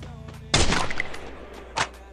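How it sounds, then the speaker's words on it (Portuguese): Gunfire in the Free Fire mobile shooter game: a loud close burst of shots followed by a second short report about a second later, with no talk over them. "Atirar pra ver se ele para, né?"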